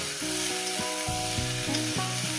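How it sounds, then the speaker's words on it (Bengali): Green chilli and onion fry in a pan, giving a continuous close sizzle with a faint tonal hum beneath and no talking. "কাঁচা লঙ্কা পেঁয়াজটা দিয়ে আরও আমি চার পাঁচ মিনিট ভেজে নেব"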